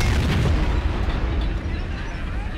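Heavy anti-aircraft gun fire in a tank video game blasts away at enemy tanks, a loud, continuous wall of booming shots and explosions with no break across the stretch.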